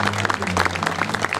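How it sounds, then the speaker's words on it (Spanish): Applause for a young rider at a traditional gaucho parade celebrating a town anniversary, a short burst of dense clapping from a crowd with a voice talking over it. "El aplauso para Malena Ancarola"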